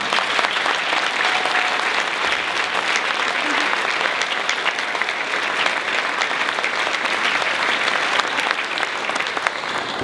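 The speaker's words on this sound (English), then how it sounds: "could you please stand up so we can give you a big round of applause" Steady, full applause fills a graduation ceremony hall as the audience claps for the adult band helpers, continuous and fairly loud for the whole stretch.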